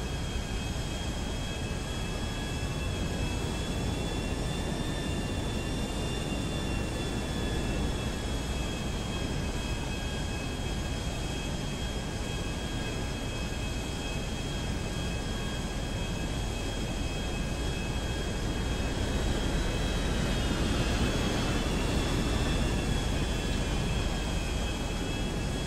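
Small airplane engine in GTA 5, a steady dense drone with a faint whine that holds evenly at the same loud level throughout, with no talk.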